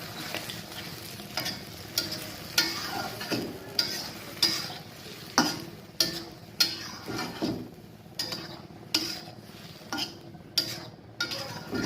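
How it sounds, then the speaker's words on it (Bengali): Fish spice paste sautés with onion stalks and tomatoes in a hot pan, a spatula scraping and stirring in a regular rhythm of sharp strokes over a continuous crackling sizzle. "এবারে তৈরি করে রাখা মাছের মশলাটা এতে দিয়ে দিচ্ছি এবং খুব ভালো করে কষিয়ে নিচ্ছি"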